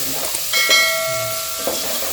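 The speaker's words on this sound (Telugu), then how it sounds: "ఇట్లా మంచిగా జస్ట్ ఫ్రై చేసుకోవాలి" Vegetables for veg khichdi frying in a pan, a steady close hiss of sizzling oil with a brief high tonal whine over it partway through.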